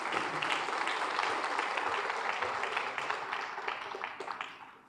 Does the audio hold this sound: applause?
yes